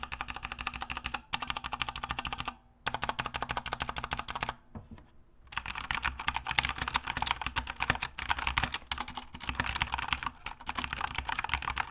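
Fast, steady typing on a Corsair K70 RGB Rapidfire mechanical keyboard, dense crisp key clicks in bursts with a few brief pauses, close and alone without speech.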